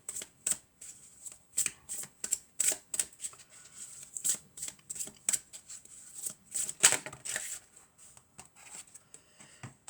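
Tarot cards being shuffled by hand, with soft, irregular riffling and slapping sounds in close, quiet bursts throughout.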